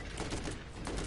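Bursts of turret gunfire rattle in a dense, rapid volley in Borderlands, fairly faint and crowded together over a short span.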